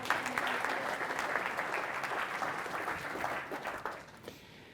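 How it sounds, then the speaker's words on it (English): A conference audience applauds a presenter, a sustained round of clapping that holds steady before tapering off near the end. "I would like to start with an applause for Lena, who's going to present"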